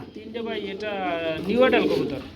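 Pigeons coo close by at a pigeon sale, a throaty warbling call rising and falling over about two seconds, with a voice talking at the same time.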